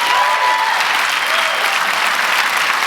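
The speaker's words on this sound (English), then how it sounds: "Huge round of applause for our speakers again today." Loud audience applause for speakers at an HR technology conference, a thick, even roar of clapping hands sustained at full volume across the whole stretch, with no talk over it.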